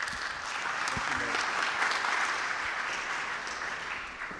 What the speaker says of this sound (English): It's always a little bit of a nervous moment when there are applause at the beginning.